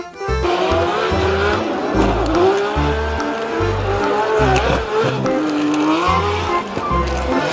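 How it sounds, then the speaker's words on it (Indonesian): A black NASCAR race car drives past with a loud, steady engine whine that rises and falls in pitch, accompanied by rhythmic low thumps throughout. "Mobil NASCAR berwarna hitam."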